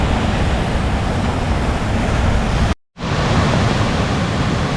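A rain-swollen creek feeding Katoomba Falls rushes loudly and steadily, a dense roar of water that cuts out briefly partway through and then resumes.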